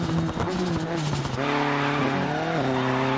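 A rally car in a racing video game, set in a digital rally trophy event, skids loudly as the handbrake is pulled; a steady tire squeal rides over the revving engine's shifting tones, close and continuous throughout.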